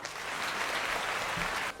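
An audience claps steadily and densely to welcome Dr. Rajeswari as the first speaker for a team at a Tamil debate event. The applause holds at an even level throughout, with no voices over it.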